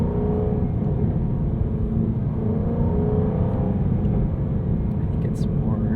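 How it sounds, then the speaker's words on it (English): A 2023 Jaguar F-Type R with a ZF gearbox rumbles steadily with a low, continuous engine and exhaust drone throughout, loud and close, with faint voices audible underneath. "it'll really only give you the burble. You gotta hit it at just the right RPM."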